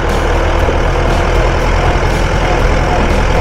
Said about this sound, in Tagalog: Masaya pag sumakay ka ng traktora.